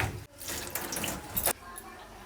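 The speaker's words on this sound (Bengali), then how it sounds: "তো মাছগুলো ধুয়ে নেওয়া হচ্ছে" Tap water pours steadily over Tengra fish being rinsed in a sink, a close, even splashing rush that stops abruptly after about a second and a half, leaving faint quiet.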